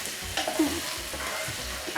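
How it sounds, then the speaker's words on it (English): Garlic frying in a pan sizzles steadily while a utensil stirs and scrapes it around in quick repeated strokes, close and clear. "And I'll stir this all around again."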